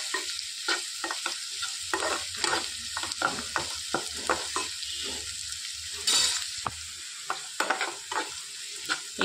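Thinly sliced onions frying on low heat for a potato fry, with a soft continuous sizzle under repeated close scraping stirs of a spoon in the pan, no voices.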